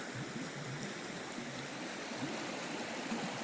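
A river rushing past two riverside hot tub pools on an Oregon-to-Vancouver road trip, a steady broadband wash of flowing water, continuous and even, with no voices.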